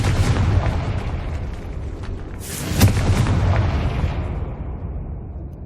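A fiery Confringo spell explosion in Hogwarts Legacy booms close and loud amid ongoing combat rumble, with a sharp burst near the middle that decays into a fading roar.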